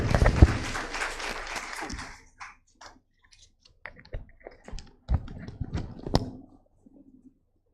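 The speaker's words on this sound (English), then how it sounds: "A big round of applause for the next presenter." Applause at a Council of Architecture best thesis award presentation, dense and fairly close for about two seconds. It then thins out to scattered, fading individual claps and clicks.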